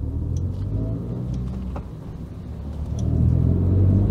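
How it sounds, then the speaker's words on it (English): A car engine rumbles low and steady from inside the vehicle, swelling slightly louder near the end as it pulls below 2000 revs. "This engine just pulls so well below 2000 revs."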